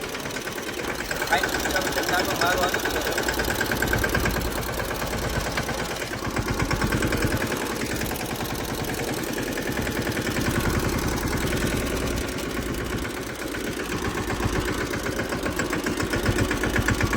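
A farm tractor engine runs steadily nearby with a constant rumbling, chugging drone, while people talk over it.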